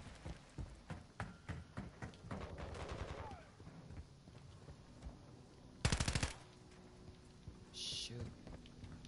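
Gunfire in the video game Modern Warfare 3, with a run of rapid shots early on, a loud automatic burst near the middle and scattered game effects beneath it.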